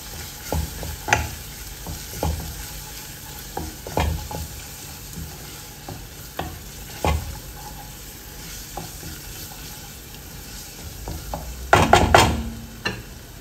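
Tomato paste sautés in a pan, a steady low sizzle punctuated by repeated spoon scrapes and knocks against the pan, with a louder burst of clattering stirring near the end.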